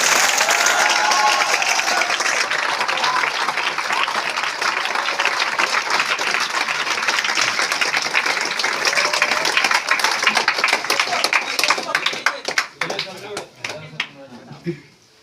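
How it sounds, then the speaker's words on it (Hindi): Loud sustained audience applause at a meeting, dense clapping filling the room for most of the time, thinning into scattered individual claps toward the end, with voices faintly underneath. "सर के लिए जोरदार ताली होनी चाहिए।"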